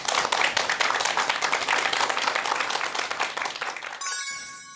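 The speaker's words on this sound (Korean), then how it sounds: "여러분 큰 박수 부탁드립니다." Applause from an audience welcoming a lecturer on Korean medicine and mental health, dense clapping filling the room for about four seconds before cutting off abruptly.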